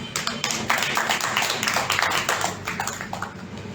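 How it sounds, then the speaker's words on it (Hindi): A church congregation claps together during a Hindi sermon, a dense, sustained patter of many hands that stays fairly steady and close for the whole stretch. "ताली बजाएं।"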